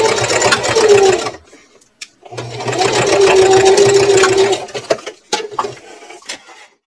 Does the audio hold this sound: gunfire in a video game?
no